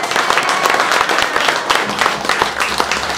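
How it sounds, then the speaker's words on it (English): Audience applause at a Pride book presentation: a dense, steady round of clapping from a crowd, fairly close and loud, filling the whole stretch with no talk over it. "Give an applause for Pride!"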